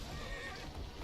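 A horse whinnies in Assassin's Creed: Syndicate over a steady wash of game background noise, fairly loud and continuous for about a second.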